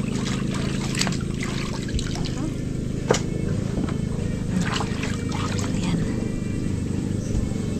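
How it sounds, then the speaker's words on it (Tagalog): Rainwater trickles and splashes steadily as it is poured over fish to rinse them, with a continuous wet rushing and a few brief clatters close by. "Purasan natin ito ng tubig ulan"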